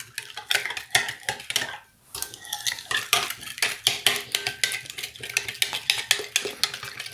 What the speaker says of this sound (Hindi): अब इसको अच्छी तरह मिक्स करेंगे। इसको अच्छी तरह मिक्स करना है।